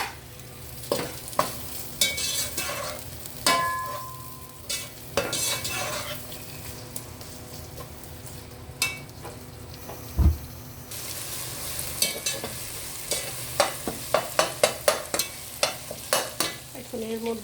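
Chopped tomato and green chili sizzle in a hot pan while a utensil stirs and scrapes. Quiet, steady frying runs under repeated clinks and scraping strokes of metal against the pan, growing busier toward the end.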